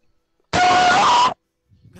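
A voice imitates a video game jump-scare scream, a single loud, harsh, strained shriek held for under a second, up close and clipped, followed by silence and then faint talk.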